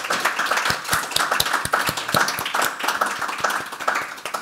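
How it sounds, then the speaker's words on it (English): A modest audience claps for panelists at a talk on digital audiences, with distinct, fairly close hand claps in a loose rhythm rather than a dense roar, continuing for several seconds. "Can you have a round of applause for the panelists who've been such interesting insight?"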